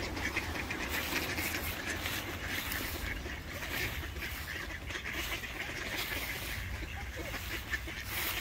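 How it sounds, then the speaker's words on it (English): A crowd of ducks quacking by the water in Riga, a steady chorus of overlapping quacks and honks at moderate distance, with faint voices in the background. "Come on, ducky duck."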